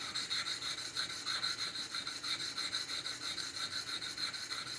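A knife blade sharpened by hand on diamond stones, a continuous close rasping scrape in even back-and-forth strokes with no speech over it.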